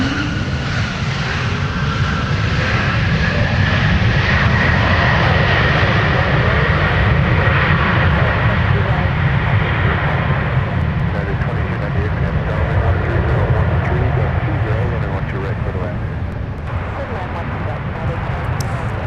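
A plane taking off from runway 12 Left at Minneapolis–St. Paul airport gives a loud, sustained engine roar for about twenty seconds, with voices talking over it.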